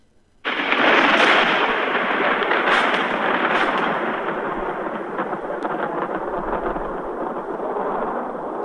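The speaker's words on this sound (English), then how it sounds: "a storm was brewing, a very violent storm" Deep rolling thunder from a violent spring storm over a city at night, a loud broadband rumble that breaks in sharply and then holds a long sustained roar with a few crackling peaks.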